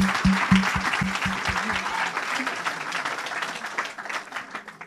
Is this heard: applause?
yes